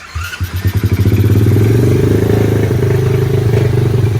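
Xtreme Typhoon 125 pit quad with a semi-automatic gearbox revs hard close by, its engine note climbing from a few sputtering pulses into a loud, steady, rapping drone held to the end.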